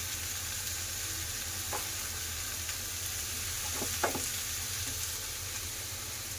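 Vegetables sautéing in a pan with salt, a soft steady hiss of frying with a few light stirring scrapes near the middle.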